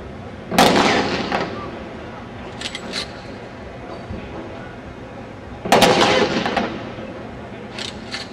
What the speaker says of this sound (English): the Illinois National Guard Honor Guard will fire a three-gun volley in tribute to those fallen soldiers